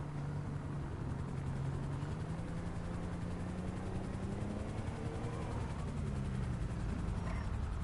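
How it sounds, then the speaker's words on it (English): A steady helicopter rotor drone from the video game GTA Online, with a low, slowly shifting engine tone, continuous and moderately loud throughout, no voices. "I hear a helicopter right here."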